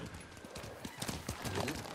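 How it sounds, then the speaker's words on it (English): A horse gallops in Ghost of Tsushima, its hooves clopping in quick rhythmic beats, fairly faint, with a brief whinny and speech mixed in. "You're a good horse, Noble."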